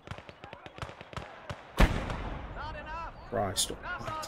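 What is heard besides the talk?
tank gunfire and explosions in Gates of Hell video game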